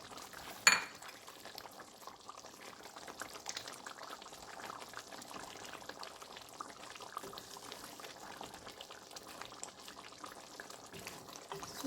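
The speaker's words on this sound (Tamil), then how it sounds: "நல்லா இது கொதித்து கொஞ்சம் எண்ணெய் மேலுக்கு வருது" Shark curry (sura kulambu) simmering in a pot with oil rising to the surface, giving a faint, steady bubbling and hiss throughout, with one brief clink near the start.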